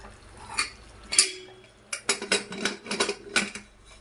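Metal pressure cooker lid being fitted and closed over vegetable white pulao, a sharp clank followed by a run of close rattling, scraping clicks of metal on metal, no talking.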